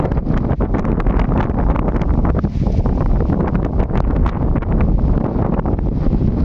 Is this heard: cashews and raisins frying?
no